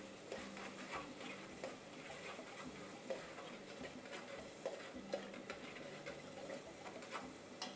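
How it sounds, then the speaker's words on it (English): Eggplant mixture for zaalouk stirred through sauce in a pan, a low steady simmer under slow, regular spoon scrapes and light ticking taps against the pan, close but quiet, no talking. "And we stir it."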